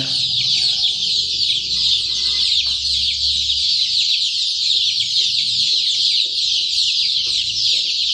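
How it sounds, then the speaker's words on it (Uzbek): A dense, continuous chorus of many 22-day-old Andijan black chicks peeping at once, loud and close, with no pauses and no voices. "Andijon qora jo'jalarimiz sotuvda"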